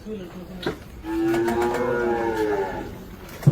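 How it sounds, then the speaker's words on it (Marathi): Cows and calves moo loudly and close, one long drawn-out low call followed by shorter calls, with farm background noise. "त्यामुळं वासरा आणि गायी ओरडत आहेत"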